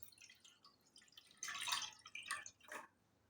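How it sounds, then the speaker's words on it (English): Water is poured into a white bowl or basin in a quiet room, giving a few short splashing bursts separated by brief pauses, close and fairly soft with no talking. "Then you're going to add the water inside the white bowl or white basin."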